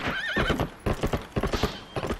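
Epona, the horse in Zelda: Twilight Princess HD, whinnies briefly at the start, followed by a quick run of close, crisp hoofbeats clip-clopping in a steady rhythm.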